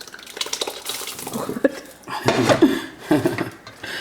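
Cooked rigatoni tipped into a pan of vodka sauce and stirred, with wet scraping and clinks of utensil against the pan, close and intermittent.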